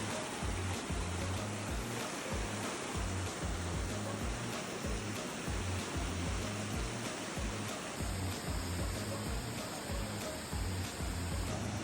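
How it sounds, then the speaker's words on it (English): The middle falls of Gooseberry Falls pour in a broad, constant roar of rushing water that stays steady and full throughout, heard up close with no talking. "These are the middle falls."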